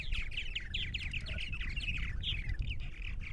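Purple martins on Long Island, New York, give a steady stream of squawking, chirping calls, several birds close together over low background rumble.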